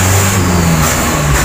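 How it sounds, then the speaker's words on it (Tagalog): A car passes along a roadside street, its steady engine rumble and road noise filling the short stretch at close range, loud and continuous with no voices. "tabing kalsada po kasi kami, kaya medyo maingay pag may dumadaan sa sasakyan"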